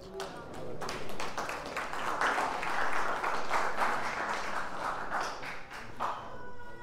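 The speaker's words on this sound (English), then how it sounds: "the clapping was nice" A church congregation claps in a dense, continuous burst of applause lasting several seconds, loud and close, with a few individual claps standing out as it fades.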